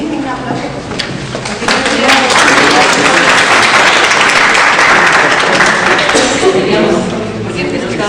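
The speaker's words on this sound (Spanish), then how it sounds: "Venga, aplauso." A roomful of people breaks into sustained applause, building quickly to a dense, loud clapping that holds steady, then starts to ease near the end.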